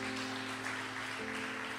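A church congregation applauding during a sermon, a steady wash of clapping from many hands blended with sustained musical tones underneath.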